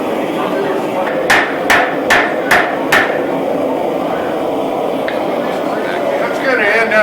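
Hammer strikes on a steel razor blank being forged narrower and longer at a razor-making meet: five sharp, evenly spaced blows ring out in a quick run, then stop, against steady background noise and faint talk.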